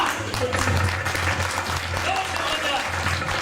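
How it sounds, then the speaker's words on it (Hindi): Audience applause at a Holi celebration at Vishwa Hindu Mandir, a steady wash of many hands clapping with a low hum underneath and voices mixed in. "तालियां."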